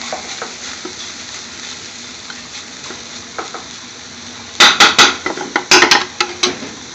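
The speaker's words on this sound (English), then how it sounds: "Give it a little good mix in there," Large batch of spinach for a British Indian restaurant-style sag bhaji being stirred in a hot pan, quiet sizzling at first, then a run of loud, close scraping and tossing strokes near the end.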